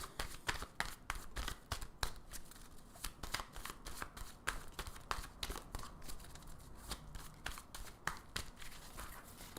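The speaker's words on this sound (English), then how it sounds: "Shuffle a few more times" Tarot cards are shuffled by hand in rapid, crisp riffles and slaps, a close, steady flurry of papery clicks repeating without pause.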